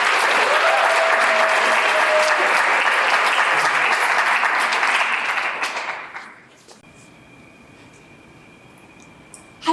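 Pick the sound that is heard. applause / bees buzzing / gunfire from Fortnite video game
applause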